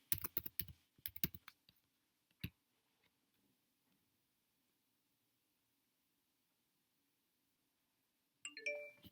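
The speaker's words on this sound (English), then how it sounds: "you need to type in your password" Keys clatter on a computer keyboard as a password is typed, a short quick burst of close clicks, then a lone tap and silence before a brief chime at the end.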